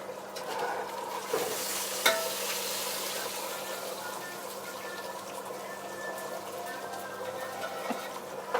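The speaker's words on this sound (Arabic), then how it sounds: "حطينا هنا معلقتين صلصه على معلقه زيت" Tomato paste frying in a spoonful of oil while being stirred in an Egyptian kitchen: a continuous close sizzle with scraping spoon strokes, a sharp clink around the middle and a steady low hum underneath.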